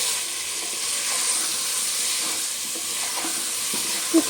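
Potatoes for aloo dum fry in spiced oil inside a pressure cooker, a steady close sizzle with soft stirring knocks and a couple of louder scrapes near the end.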